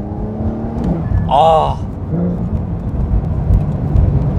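A Porsche 911 Carrera 4 GTS's exhaust note rises in a brief sharp rev on a paddle shift through a corner, over a steady driving rumble, with cabin road noise throughout.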